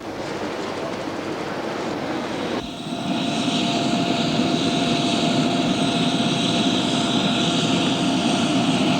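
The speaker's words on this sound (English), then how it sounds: "Most of his flying is done in a private jet" Private jet aircraft engines roar steadily and loudly up close, with a sudden rise in whine and intensity partway through as the engines spool up, no voices present.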